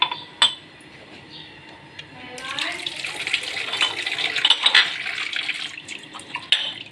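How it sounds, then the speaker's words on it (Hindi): Small cups being rinsed under a running kitchen tap at home; the water starts partway through as a steady, close rush, with a few faint clinks of the cups. "मैं इन कपों को थोड़ा खंगाल लूँगी"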